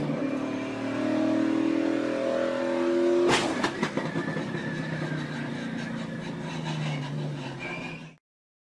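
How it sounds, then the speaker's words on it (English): NASCAR race car engines roar at speed, then a sudden sharp impact from a multi-car pileup out of turn 4 cuts through, followed by rattling and clattering as cars keep screaming past. "A multi-car pileup."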